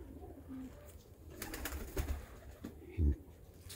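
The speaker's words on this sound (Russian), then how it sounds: "Вон собираются голуби." Pigeons coo faintly in the distance during the first snow, with soft flutters and rustles and a low thump near the end, all quiet and outdoors.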